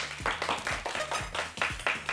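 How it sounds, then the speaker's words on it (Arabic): An audience claps for a contestant in a studio game show, a brisk run of close, rhythmic handclaps with no talking. "صح، صفقوا لها"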